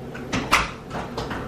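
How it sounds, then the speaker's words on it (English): A door is opened indoors with a few short wooden clunks and rattles, one sharper knock in the middle, heard close with no talking. "Why do you keep opening the door"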